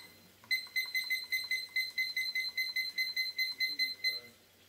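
A kitchen timer being set gives a rapid, evenly spaced run of about fourteen short, bright electronic beeps, clear and close in a quiet kitchen.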